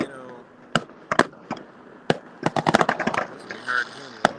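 Fireworks pop and crackle in a string of sharp bursts, some isolated and some in rapid clusters, loud and close over a steady background murmur of voices.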